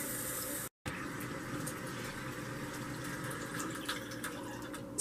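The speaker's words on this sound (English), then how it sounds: "And then I will rinse until it rinses clear." Tap water runs steadily while a dirty makeup brush is rinsed beneath it, a continuous close splashing hiss with a short break near the start.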